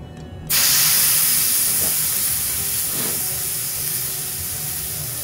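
A steak drops into a hot pan on lowered heat and bursts into a loud, steady sizzle that starts abruptly and holds as a bright, dense hiss with faint crackles, no voices over it.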